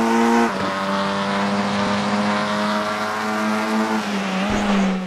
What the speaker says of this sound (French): On réaccélère très très fort pour une ligne droite de longueur équivalente à celle que l'on vient de parcourir.